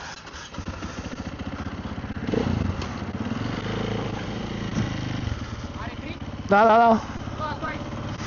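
A KTM EXC 450 motorcycle engine runs with a steady low thrum, briefly swelling, while a person talks over it at a circuit.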